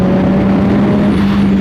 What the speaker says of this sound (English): Let's do a quick little fourth gear pull.